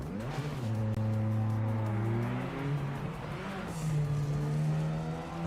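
Race car engine in a racing video game climbs through high revs, bogs and settles, then rises again, a continuous loud engine drone with faint tire noise and no speech over it.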